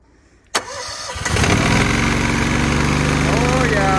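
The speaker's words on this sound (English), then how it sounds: "Let's see if this machine will start up and run." A small engine fires up from stone cold with the choke on, a sharp click followed by a brief sputtering catch that settles into a loud, steady running drone close by.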